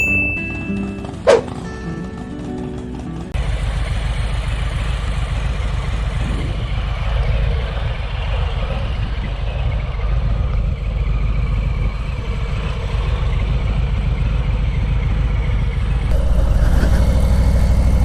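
After a short sharp bang, a motorcycle with a Bassani Road Rage 2 exhaust and an S&S 475 cam idles loudly with a deep, steady, lumpy rumble, then briefly revs higher near the end.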